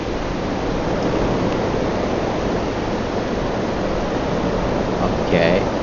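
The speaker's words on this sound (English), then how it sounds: "Okay, a fake waterfall." Steady broadband rushing of a fake waterfall in the Starfield video game, a continuous even roar filling the clip without a break.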